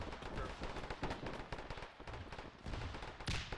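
Gunfire rings out in the Arma 3 military-simulation video game during a battle for Henderson Field, a dense, continuous clatter of shots and rumbling booms throughout, with a sharper burst near the end.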